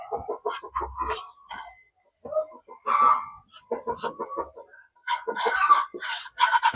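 Ducks feeding on Madre de Agua leaves quack and chatter in quick, busy bursts close by, pausing briefly before starting up again.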